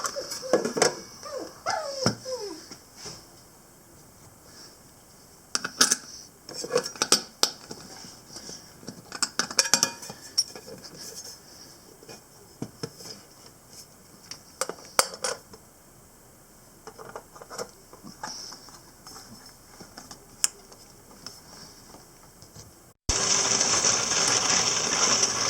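A case tumbler running with its lid shut, churning brass rifle cartridge cases in a steady rattle broken by sharper clinks and ticks, then a louder, harsher whir once the machine gets fully going near the end.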